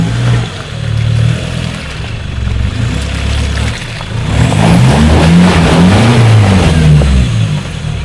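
A stock Isuzu D-Max revs hard while climbing out of a large muddy hole, its engine droning loud and close, then rising sharply in pitch and surging under full throttle.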